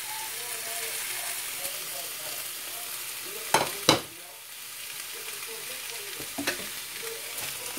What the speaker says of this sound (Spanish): Ya piqué el tomate, la cebolla y el chile dulce. Ahora lo vamos a echar.